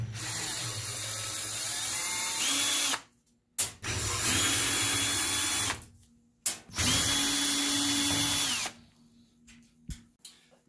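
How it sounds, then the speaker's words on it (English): A cordless drill with a 1/4 inch hex head bit backs screws out of a washing machine panel in three long, steady whirring bursts, each ending as the motor winds down, with short clicks and pauses between. "I'm using this hex head bit. It's a 1/4 inch on a drill to speed things up."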